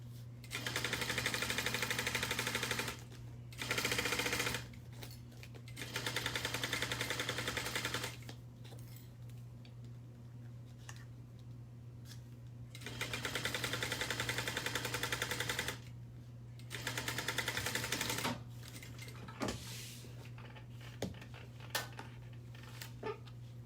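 A sewing machine stitches fabric at a quarter-inch seam with stitch length set to 3, running in several bursts of fast, even mechanical chatter separated by quieter pauses, close and alone without speech.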